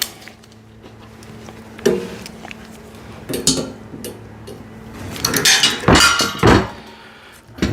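Metallic clinks, ratchet clicks and scraping come from tightening bolts on hydraulic low-profile car ramps, irregular bursts growing busier toward the end, close and alone with no talk.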